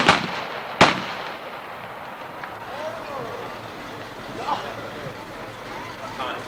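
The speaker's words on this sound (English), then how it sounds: "for the old year's gone, and the new year's come, and for good luck, we'll fire our guns" Guns fired for good luck at an outdoor New Year wassail give two sharp, loud blasts close together near the start, followed by crowd noise and a few voices in the background.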